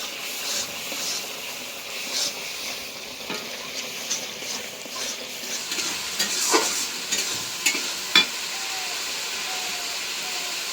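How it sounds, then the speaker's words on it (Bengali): Turmeric, chilli and coriander powders sautéed for a fish curry with potato and cauliflower: a soft continuous sizzle under repeated scraping stir strokes that grow more frequent toward the end, close and with no voices. "একদম ভালো করে কষাই নিলাম"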